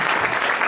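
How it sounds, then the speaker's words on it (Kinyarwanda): Studio audience applause at a comedy talk-show interview: a brief, continuous wash of many hands clapping at even loudness, with no speech over it. "Azakomera amashyi kuri ako kantu uvuze"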